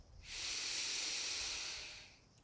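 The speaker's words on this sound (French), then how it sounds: "Inspirez par le nez." A single deep inhalation through the nose, a close, soft airy hiss that swells in, holds for about two seconds and fades, with no talk during it.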